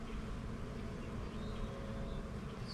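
Honey bees buzz steadily during a hive inspection in spring, a low, continuous drone from a colony with eggs, larvae and pollen, fairly faint and close, with no talk over it.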